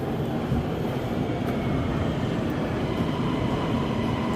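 Train pulling into a station in Kuala Lumpur, a steady, loud low rumble and roar of rolling rail cars that holds evenly throughout with no talk.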